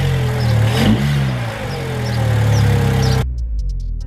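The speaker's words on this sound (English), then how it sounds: "let's give it a little rev" A car engine revs right after fresh spark plugs were fitted, loud and close. It holds a steady rising and falling drone, then cuts abruptly to quieter idling with faint clicks.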